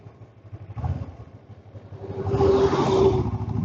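A Kawasaki Ninja 650 twin motorcycle on a road ride hums at a low pitch, then its engine climbs and swells louder as the rider accelerates, heard close with no talk.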